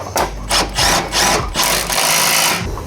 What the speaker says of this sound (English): Now we're gonna use our 19mm socket and 19mm combination wrench to get this top bolt and nut tightened.